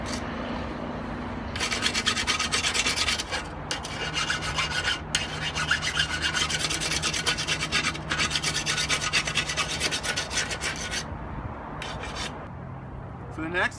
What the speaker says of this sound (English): use a metal file to smooth out the edges